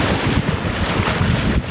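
Strong wind buffeting the microphone aboard a sailboat off the New Jersey coast on the Atlantic Ocean, a steady loud roar with low gusty rumble and wash of waves, no voices.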